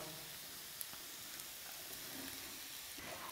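Boiled, diced potato sautés with vegetables in a pan, a soft, faint sizzle with a few light stirring clicks.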